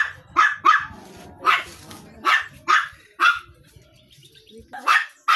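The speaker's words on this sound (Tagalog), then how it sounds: "Ay, ingay ng aso na to." A nearby dog barks repeatedly at a family home in Maragondon, with loud sharp barks coming in uneven clusters and short pauses between them, alone apart from faint background noise.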